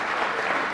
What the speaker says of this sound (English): the applause are lovely